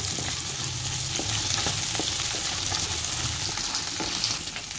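Green chillies sizzle and crackle steadily in a hot pan of oil while bitter greens mash is being made, a dense, close frying hiss with light stirring scrapes throughout.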